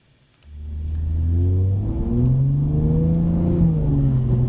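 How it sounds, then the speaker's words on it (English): Engine of a 2020 Toyota Supra revving hard on the Jefferson Circuit race track, a steady, loud mechanical drone rising in pitch through the gears, close and continuous with no talk. "two laps of the Jefferson Circuit with just raw out of the Garmin Verb audio of the Supra"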